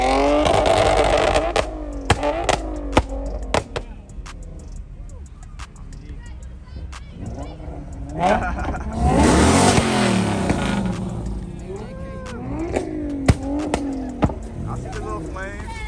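A Nissan G35 and other cars rev hard at a large car meet, with engines rising and falling in throttle blips, sharp exhaust pops and crackles, and a long roaring pull, all close and loud while people talk and shout nearby.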